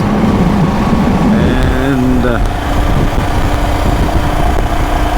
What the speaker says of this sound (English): the bike is just amazing when you ride it after a long time